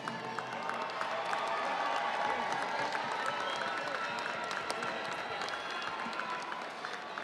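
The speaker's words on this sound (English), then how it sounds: "Give them a big round of applause" A large audience claps steadily and evenly at a high school graduation ceremony, a dense, sustained wash of applause with faint cheering mixed in throughout.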